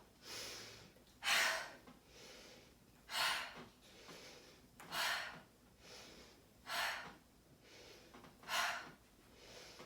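Slow, steady breaths during a yoga exercise, each inhale and exhale drawn out and audible, about six soft cycles spaced evenly and close by, with no talking.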